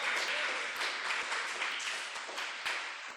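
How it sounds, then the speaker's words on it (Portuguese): A church congregation claps loudly and continuously in praise during an evangelical service, a full, even wash of applause throughout. "Vamos aplaudir bem forte ao nosso Senhor."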